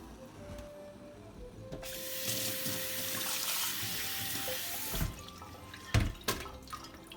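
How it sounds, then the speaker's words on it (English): Tap water runs steadily into a kitchen sink to cool freshly boiled spinach for Japanese ohitashi, a continuous rushing splash with a few clunks and knocks near the end. "I'm going to cool this in water."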